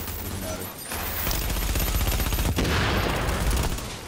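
Rapid bursts of explosive-round shotgun fire in The Division, loud and dense, blasts overlapping almost continuously with a brief dip partway through.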